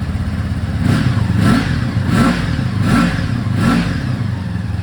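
A Honda V65 Sabre VF1100S motorcycle idles on a cool cold start, still on choke, its engine close and loud with a steady rumble broken by rhythmic throttle blips about every second.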